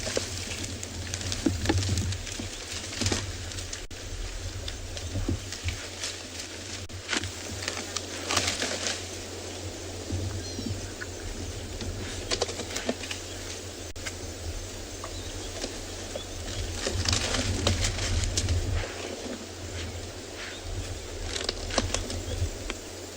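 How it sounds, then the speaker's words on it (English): An animal's tail swishing on a sunset safari drive, soft repeated brushing swishes coming and going over a quiet outdoor background, with occasional rustles and no talking. "That swish, swish that you can hear is actually a tail."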